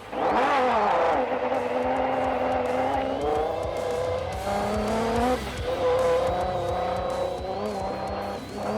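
Race buggy engine running loud and steady in the Australian desert at the Finke Desert Race, its revs rising and falling slightly while it holds a rough, continuous drone throughout.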